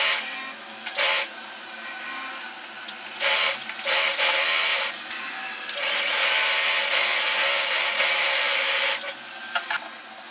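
Sewing machine stitching frills onto a child's frock, heard as close bursts of rapid mechanical whirring, short runs at first and then a longer steady run, separated by brief pauses.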